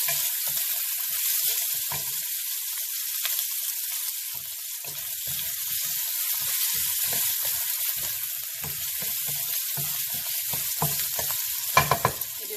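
Lemongrass, herbs and chilies sauteing in a pan, a steady bright sizzle with soft stirring scrapes and a few clinks near the end, no talking.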